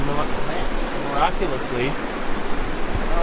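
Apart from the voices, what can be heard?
waterfall draining Cairngorm Lake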